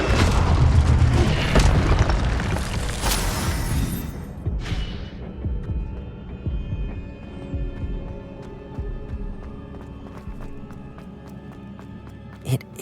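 An Incendio fire spell cast in the Hogwarts Legacy video game, a dense whooshing, booming burst of flame that then settles into quieter rumbles and scattered crackling hits, with one sharp pop near the end.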